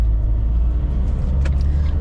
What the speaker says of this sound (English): we're basically stuck in the traffic the whole way out